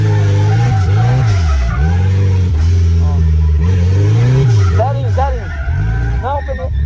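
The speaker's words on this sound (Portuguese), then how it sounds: "vai lançar o carro lá, se ele passar do grau, você vai continuar fazendo a bolinha, zerinho" A car drifting in tight donuts at a first drift lesson: loud, close tire squeal and skidding with wavering engine revs throughout, while a person talks over it.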